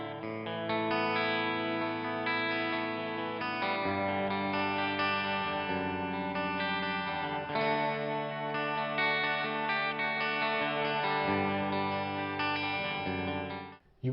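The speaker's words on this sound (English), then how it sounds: "You now get an Arion stereo chorus." An electric guitar plays chords through the Arion stereo chorus effect on a NuX MG30 guitar processor, a shimmering, modulated tone sustaining clearly on its own.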